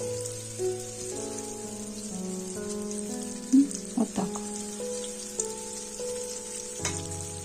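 Cabbage cutlets fry in a pan over medium heat with a steady soft sizzle and a few sharper pops, under faint background music and with no talk.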